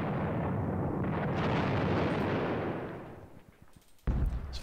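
Anti-tank gun fire in the wargame Panzer Battles Kursk, a long rumbling boom that slowly fades, followed by a sharp second blast near the end.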